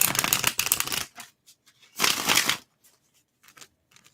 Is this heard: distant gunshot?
no